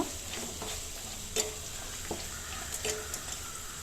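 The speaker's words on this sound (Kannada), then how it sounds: "ಈಗ ಹಸಿರು ಮೆಣಸಿನ್ಕಾಯಿ ಹಾಕೋತಿದ್ದೀನಿ ಅದು ಅಷ್ಟೇ ಫ್ರೈ ಮಾಡ್ಕೋಬೇಕು" Green chillies fry in hot oil in a pan with a steady, soft sizzle and a few light stirring scrapes, close and alone.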